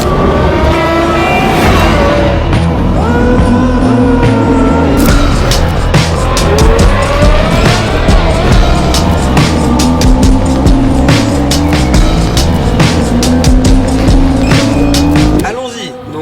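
A Ferrari 12Cilindri supercar in sport mode roars loudly and close, its engine note repeatedly climbing through the revs, with tire squeal, before cutting out abruptly near the end.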